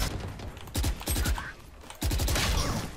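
Bursts of gunfire from the Valorant video game, rapid volleys clustered around three moments with quieter gaps between, loud and close, with brief voices underneath.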